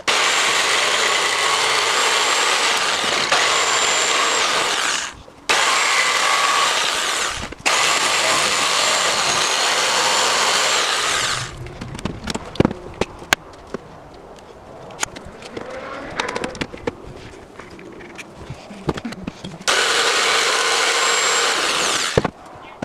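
A power tool cuts a recess into soft wood in long, loud, sustained whining bursts with short pauses between them, then a quieter stretch of scattered clunks and scrapes before a final burst of cutting.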